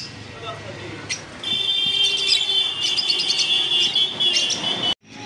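Lutino Fischer's lovebirds chirp in a steady, shrill chatter through most of the stretch, with sharp high calls rising above the flock's continuous background twittering before it cuts off abruptly near the end.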